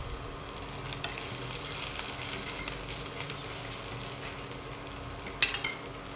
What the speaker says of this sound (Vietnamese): Baro vô mình phi thơm.